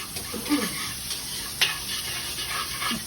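Onion sizzles in hot oil in a pan while ramen is being made, a continuous crackling hiss broken by a few clinks and scrapes of stirring.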